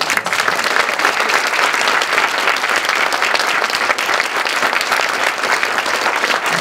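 An audience applauds François the baker at a closing speech, steady dense clapping from a large crowd filling the room without pause, loud and sustained throughout.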